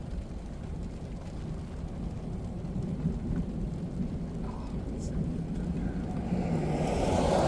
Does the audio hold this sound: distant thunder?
yes